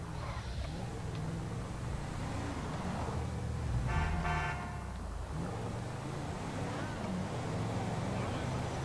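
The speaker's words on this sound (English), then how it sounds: "Stop honking your horns at me," In Grand Theft Auto 5, a car horn toots briefly in the middle of faint traffic and engine rumble, over a low game background, with no talk.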